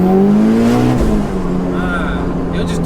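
Mitsubishi Evo V tuned to 694bhp pulling hard in second gear on a B road, a loud rising engine note with harmonics climbing steadily, then a brief dip around a shift-like break before droning on, with voices talking over it inside the car.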